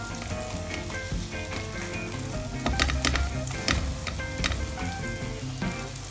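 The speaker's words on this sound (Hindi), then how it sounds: "सॉस के लिए सबसे पहले मैंने लहसुन और अदरक की जो पेस्ट ली है 1 टीस्पून, उसको हल्का सा हम 2 टेबलस्पून ऑयल में फ्राई करेंगे।" Garlic and ginger paste fries in two tablespoons of oil, giving a steady close crackling sizzle with a few louder spits and stirring noises, and no talking.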